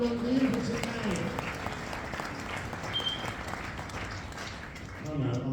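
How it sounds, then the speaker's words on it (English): Applause from a comedy show audience fills the room, dense steady clapping mixed with crowd noise, with a voice speaking over it near the end. "Will you please give a big round of applause for the Impotent Man?"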